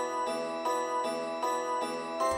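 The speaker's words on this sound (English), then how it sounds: "this pluck sounds very interesting and I thought it sounded really well with the bells." Bright synth pluck melody layered with chiming bells plays a repeating pattern of evenly spaced notes with sustained ringing tones between hits, clear and alone with no voices.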